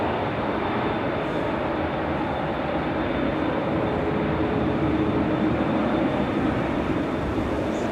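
Jet noise from Boeing 787 Dreamliner aircraft at Manchester Airport: a continuous, broad engine roar held at steady loudness for the whole stretch, with no voices over it.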